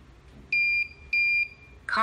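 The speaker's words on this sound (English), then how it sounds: "Let me put my buzzer back on here." Two sustained electronic buzzer tones from a Nextion eParrot distillation monitor sound its column and boiler alarm, each steady beep lasting about a third of a second, close and loud, followed by a brief burst of sound at the end.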